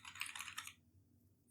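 Quick bursts of clicky keystrokes on a Sinclair QL Q68 computer keyboard, several taps in rapid succession, faint and close in a quiet room, then a pause.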